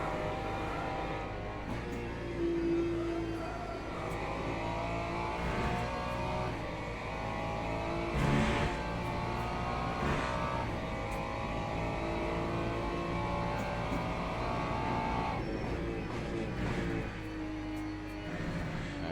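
A Ferrari 296 GT3 race car engine drones steadily at Le Mans, rising and falling through gear changes and braking, heard as a continuous onboard-style roar with no talking.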